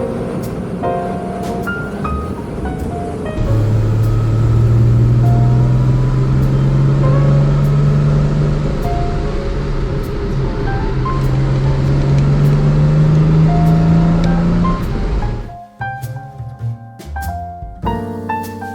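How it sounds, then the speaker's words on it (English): Smooth, quiet engine hum of a Jaguar XJ6 Series 1 with a 4.2L triple-carb engine and manual swap at a steady cruise, a low drone rising slightly, with road noise underneath before it cuts off near the end. "but then when you're just cruising, it's nice and quiet."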